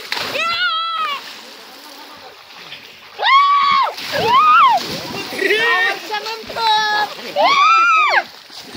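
Boys jumping and swimming in a farm well, with water splashing and sloshing in bursts while children shout and talk excitedly over it throughout.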